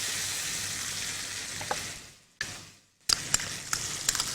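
Chopped tomato, green chillies and garlic-ginger paste fry in hot oil for dhaba-style dal chana, a loud close sizzle that cuts out briefly twice, then bursts back with sharp spattering pops.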